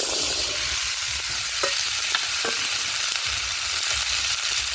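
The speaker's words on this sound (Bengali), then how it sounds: "আলুগুলোকে আমি ভালো করে ভেজে নেব।" Potatoes fry in hot oil with salt and turmeric in a pan for aloo posto, giving a steady, close hiss of sizzling with occasional stirring scrapes and no voices.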